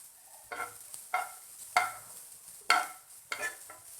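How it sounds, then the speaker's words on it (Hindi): Capsicum being fried in a pan over a medium flame as a pizza topping, with repeated stirring scrapes and light sizzling in short bursts, fairly quiet with no talking. "और इसे भी आधा मिनट हम अच्छे से फ्राई कर लेंगे।"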